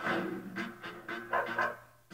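A husky pants close by in short, rhythmic breaths, about five quick huffs in a couple of seconds, faint and alone.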